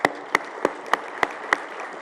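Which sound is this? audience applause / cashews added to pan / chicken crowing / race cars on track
audience applause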